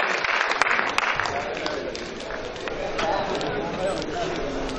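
An audience at a Hindi kavi sammelan poetry event at Taj Mahotsav applauds loudly to welcome a poet, a dense, sustained clapping that gradually thins out.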